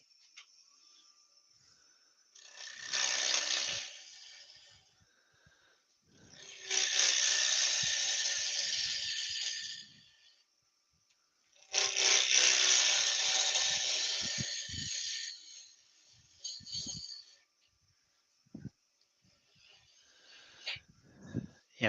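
Bowl gouges cutting ash wood on a lathe make hissing, scraping passes in several separate bursts of a few seconds each, with quiet gaps between them and small knocks near the end.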